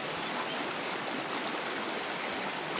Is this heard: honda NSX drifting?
no